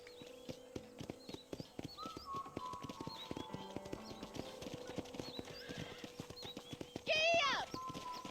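Horse hooves clip-clop steadily at a trot in Red Dead Redemption, with a sharp whinny near the end, over background music and a voice briefly speaking.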